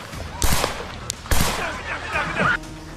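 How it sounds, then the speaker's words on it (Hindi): Gunshots ring out during the attack on Donald Trump, fired from about 400 feet: two loud sharp cracks and a fainter third, with crowd noise and shouting voices in between. "20 साल के हमलावर थॉमस मैथ्यू क्रुक्स ने 400 फीट की दूरी से 8 राउंड गोलियां फायर की थी।"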